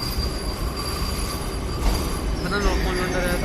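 A Kota Katra Express train rolls into a station with loud, sustained metallic wheel squeal and rumbling rail noise, a constant close din with faint voices mixed underneath.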